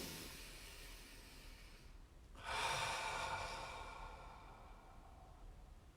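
A person pauses and draws one long, deep breath, a soft hiss of inhalation and exhalation rising after a brief quiet gap, close and alone with no talking.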